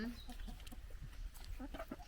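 Foreign-breed chickens with feathered legs and feet cluck in short, scattered calls at a Norwegian farmyard, fairly faint over steady background noise and some low chatter.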